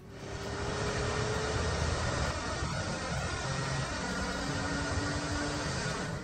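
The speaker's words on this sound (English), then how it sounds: "This is the sound of a worn out turbocharger." Worn-out turbocharger on a car under acceleration gives a constant loud rushing whoosh with a thin whine rising above it, dense and unbroken, with no talking.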